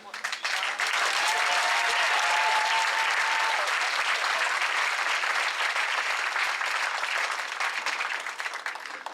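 Loud, sustained applause from a large dinner audience at a St Cloud VA awards ceremony, honoring the evening's honorees; the clapping swells within the first second and holds steady to the end, with a faint voice briefly audible early on.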